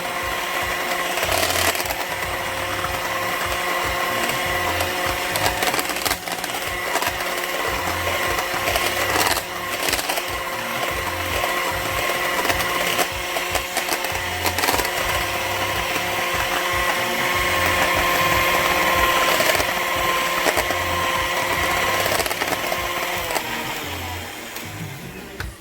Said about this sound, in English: your handheld mixer, and I want it nice and frothy, like really thick